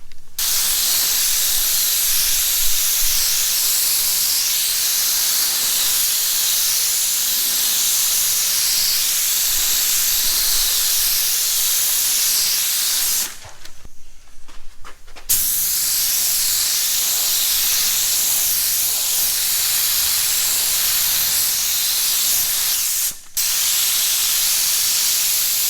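A spray gun lays a primer coat onto a car body that is taped off, giving a loud, steady hiss that runs almost unbroken, with a short pause in the middle and a brief cut near the end.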